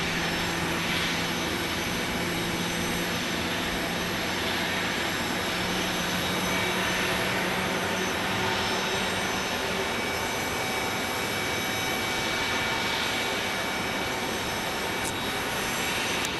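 A British Airways jet airliner lands at Phoenix Sky Harbor, its steady broadband engine roar holding at an even level throughout, with a faint high whine riding above the rumble.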